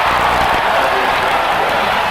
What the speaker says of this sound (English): And that'll bring the crowd to life here at the Forum.